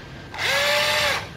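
A used Japanese cordless drill spins up in drill mode, a rising whine that holds steady for about a second then winds down, with someone talking faintly around it.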